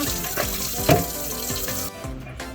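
Water from a bowl of washed oxtail splashes and runs into a kitchen sink, a close, loud gushing pour that cuts off near the end and leaves only a few faint drips, no voices.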